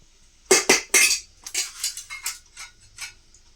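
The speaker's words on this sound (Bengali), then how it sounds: "ভাত বেড়ে দিই" Freshly cooked hot rice is served onto a plate at home, giving a series of close metallic clinks and scrapes of a spoon against the pot and plate in quick irregular bursts.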